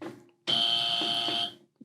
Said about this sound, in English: Hit your buzzer.